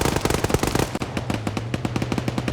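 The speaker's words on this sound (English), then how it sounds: "There's the mag dumping." Sustained machine-gun magazine dump in a multiplayer shooter match, a dense run of rapid, evenly spaced loud shots that keeps going with hardly a pause, fighting alongside a low steady hum.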